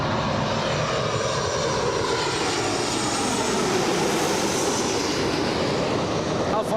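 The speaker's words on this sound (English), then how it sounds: "All right, 777 with the special livery then." A Boeing 777 airliner with a special livery at Los Angeles International Airport gives a steady, broad jet engine roar that holds constant throughout, loud and continuous with no clear breaks.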